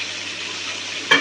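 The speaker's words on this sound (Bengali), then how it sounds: "এবার মাছটা ভাজা হোক আস্তে আস্তে" Katla fish fries gently in oil in a wok with a steady, close sizzle, ending in a sudden brief burst of louder spattering.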